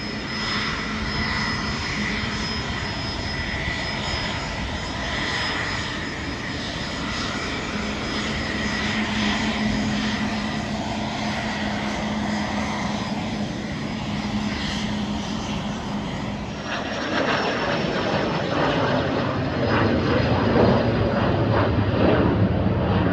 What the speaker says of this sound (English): here we have a corporate jet, destination unknown.